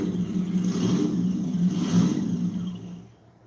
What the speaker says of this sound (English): My fake blower surge.